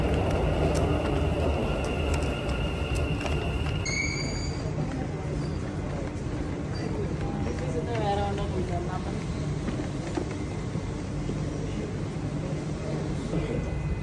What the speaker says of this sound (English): it's definitely a different vibe on the train during rush hour